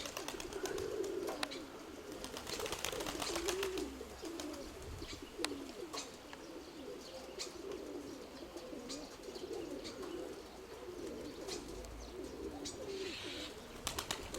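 Pigeons cooing softly nearby with occasional wing flaps and light scuffing as birds land, faint outdoor background.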